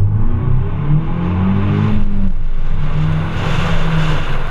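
A 2015 Ford Mustang EcoBoost turbo accelerates with a loud, droning engine note that climbs and then settles, while a hissy rush builds toward the end as the blow-off valve vents.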